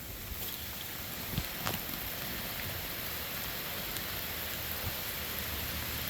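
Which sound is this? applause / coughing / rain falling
rain falling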